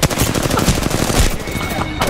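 Dense bursts of automatic gunfire from the Apex Legends video game rattle loudly and continuously, overlapping rapid shots close by with no pause.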